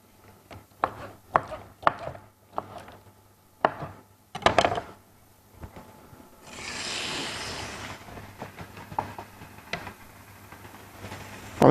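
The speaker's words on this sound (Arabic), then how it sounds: "رح نقطع بهالشكل" A knife chops through beetroot on a wooden board in a series of sharp, close thuds, followed by a brief rustling sweep and a few more scattered cuts.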